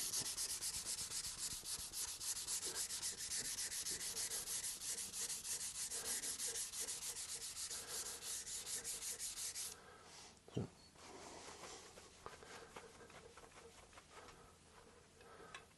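600 grit sandpaper rubbed in fast, steady strokes during guitar build preparation, a close, hissing scrape that runs continuously before easing into quieter, sparser rubbing with a single knock.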